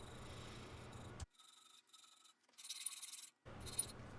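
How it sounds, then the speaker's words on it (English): Hand filing of steel with a half-round needle file while shaping the profile of a blacksmith-made Nuremberg box: quiet rasping strokes come in short bursts separated by pauses, close and faint. "I'm just going to continue with the half-round needle file to define the entire profile"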